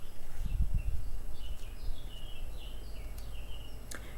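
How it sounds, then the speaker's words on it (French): Small birds chirping outdoors: faint, scattered short tweets over a steady low background hum, with no nearby voices. "j'entends le cuicui des oiseaux. C'est beau."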